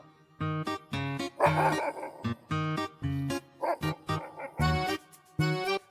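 Several dogs bark and yip in short repeated bursts, fairly close, with a few whimpering whines mixed between the barks and no talking.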